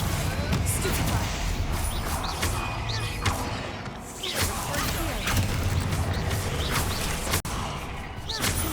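Spells impact in the Hogwarts Legacy video game as dense crashes, thumps and bursts under game effects, with a voice shouting spell names over the loud, continuous combat noise.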